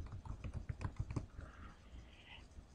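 Fingers type a vendor name on a computer keyboard at an office desk, a quick run of close, light key clicks in the first second and a half, then a quiet hum of the room with faint higher tones.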